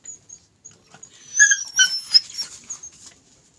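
A rescued puppy that had been pinned under sacks and tarps whimpers and cries in high, thin yelps, several short bursts clustered in the middle, close by against a quiet background.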